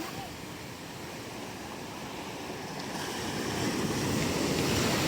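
Big sea waves wash onto a beach in Batangas as a steady, broad surf roar with wind noise, growing louder toward the end with no talk over it.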